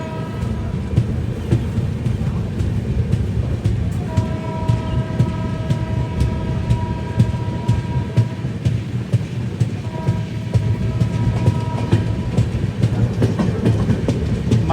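Rajgir–Banaras express train passing close by with a loud, steady rumble and rattle of wagons throughout, and a sustained tonal hum rising above it partway through.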